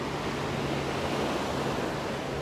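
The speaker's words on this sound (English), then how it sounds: "Look at this blue water." Ocean waves along the seaside at Nice, France, a continuous broadband wash of surf, steady and fairly loud with no voices over it.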